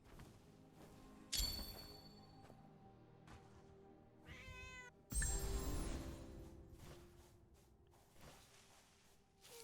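A cat meows in the video game Where Winds Meet, several separate calls with rising, wavering tones and a couple of louder bursts, set over a steady game soundscape with no talking.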